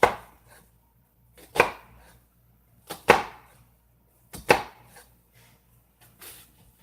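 A knife chops food for a smoked chicken salad, five crisp, distinct strikes on a cutting board spaced roughly a second and a half apart, close and clear with near silence between them.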